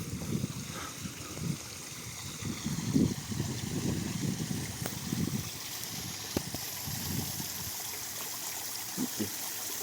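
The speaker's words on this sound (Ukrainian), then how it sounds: "Фонтан і штучний водоспад." A fountain combined with an artificial waterfall on the grounds of the Shakhtar sanatorium in Truskavets gives a steady, continuous rush and trickle of falling water that stays at an even level throughout, with no voices.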